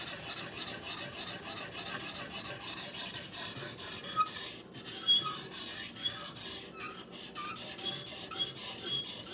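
A hunting knife sharpened on a sharpening stone, steady rhythmic rasping strokes back and forth, close and fairly quiet with no talking.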